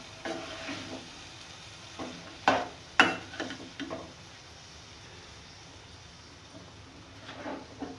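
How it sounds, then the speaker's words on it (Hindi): Spice masala for chana dal is stirred and fried in a pan, with a steady soft sizzle, scraping strokes and a few sharper clinks near the middle. "बहुत अच्छी तरह इसको मैं मिक्स करूँगी, उसको भूनूँगी मैं।"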